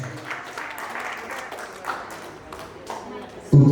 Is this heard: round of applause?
yes